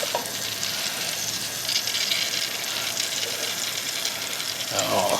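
Butter sizzling on a new griddle before pancakes are cooked at a hunting camp breakfast, a steady close hiss with fine crackle throughout, unbroken and fairly loud.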